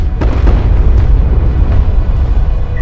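An enemy cruiser explodes in Homeworld: Deserts of Kharak, a loud, close, deep rumbling blast with several sharp cracks early on, then rolling low thunder that stays heavy to the end.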